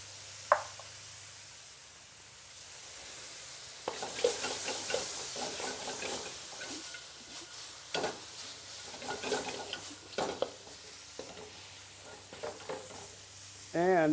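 Carrots and protein frying on high heat in a frying pan for yakisoba, a steady close sizzle broken by stirring scrapes and occasional knocks of utensil on pan.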